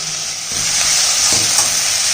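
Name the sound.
vegetables sautéing in a pan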